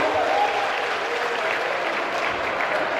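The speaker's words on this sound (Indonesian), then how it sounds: "Ayo kita berikan tepuk tangan pada adik-adik kita." Applause from a seminar audience at a university campus event on national spirit, given to young students; a steady, dense wash of clapping fills the whole stretch without a break, close and even in loudness.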